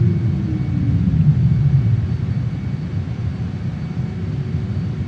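A JAS-39 Gripen jet engine in Microsoft Flight Simulator roars loud and steady as power is added, with a low rumble and a whining tone that slides downward early on.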